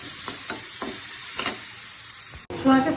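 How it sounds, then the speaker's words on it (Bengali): Paneer fries in a pan with a steady soft hiss and sizzle, broken by faint rhythmic stirring scrapes, before an abrupt louder shift near the end. "পনিরটা ভাজা হচ্ছে।"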